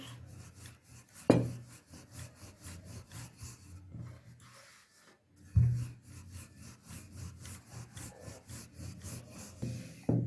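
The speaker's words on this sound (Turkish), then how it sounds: "merdane ile güzelce açıyoruz" A wooden rolling pin rolls out floured dough for Sivas katmer with rhythmic rubbing strokes close by and a few louder thuds as the pin is set down.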